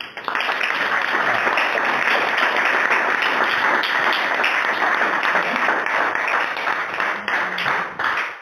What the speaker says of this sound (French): Applaudissez même, non?